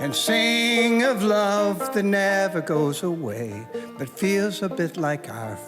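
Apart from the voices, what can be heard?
No everyday noises stand out.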